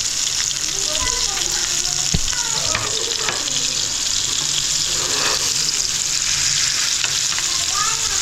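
Mackerel (bangda) fish frying in oil in a pan, a loud continuous sizzle with steady hiss throughout, occasional clinks and faint voices in the background.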